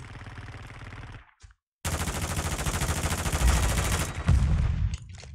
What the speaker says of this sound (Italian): Ho pure il lanciarazzi, sparo.